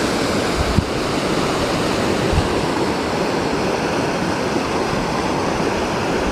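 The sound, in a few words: creek flowing water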